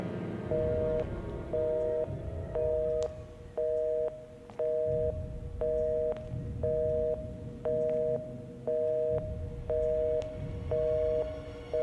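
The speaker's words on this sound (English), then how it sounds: "I start hearing something that sounded like a phone." A telephone in a hospital storage room rings with a steady repeating electronic two-tone trill, about a dozen evenly spaced bursts, moderately faint over a low background hum, with no talking.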